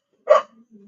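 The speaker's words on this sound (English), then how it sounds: "What are you guys barking at like that?" A single short, sharp bark from a dog in a home craft space, followed by a couple of faint low trailing sounds, with no one speaking.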